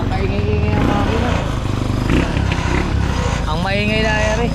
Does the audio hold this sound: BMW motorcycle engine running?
yes